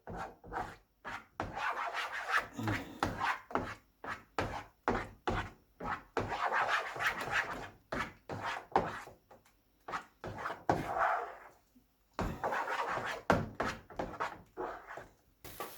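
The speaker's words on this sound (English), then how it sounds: "And now at this time you have to make sure that you vigorously stir it." A spoon scrapes vigorously around a pan of thickening rose burfi mixture flavoured with cardamom. The close, rhythmic scraping strokes repeat throughout, with one short pause partway.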